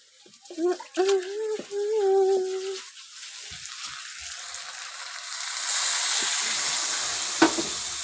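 Water is added to meat cooking in a pan, and after a few seconds of brief voice-like tones and small knocks, a loud, steady sizzle rises and holds to the end.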